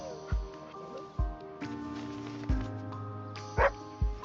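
A video game dog gives several short barks and yips at irregular intervals over a soft musical background, with one higher whimpering yelp near the end.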